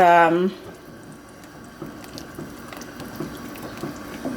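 Tap water running into a pot being filled for dandelion soup, a soft, steady splashing flow with a few faint drips, while someone talks briefly at the start.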